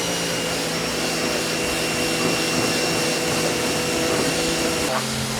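A SunJoe 2200 PSI electric pressure washer runs steadily at close range, a constant motor hum with a high whine held throughout, shifting slightly in tone near the end, with no talk over it.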